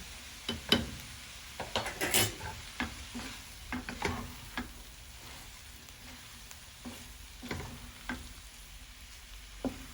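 Fish masala for a sorra poottu dish being stirred in a frying pan, a busy run of spoon scrapes and clatters against the metal over a soft, steady sizzle, close and without talk.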